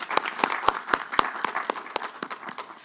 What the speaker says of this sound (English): Let's just give Ahmad one more round of applause.